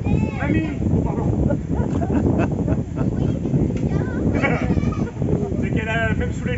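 Goat bleating at a teaching farm in Barentin, the animal's wavering calls breaking out repeatedly beneath continuous loud chatter from children and adults close by.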